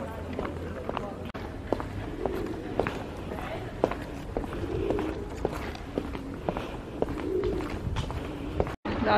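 Pigeons in a city centre park, with scattered coos and wing flaps amid steady outdoor bustle, footsteps and people talking nearby.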